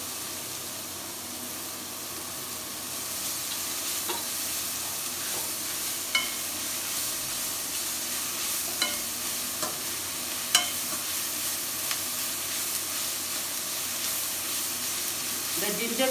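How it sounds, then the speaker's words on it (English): Steady sizzling of asafoetida and spices frying in a pan for mango dal curry, with occasional scrapes and taps of a utensil stirring, continuous and close. "And keep frying."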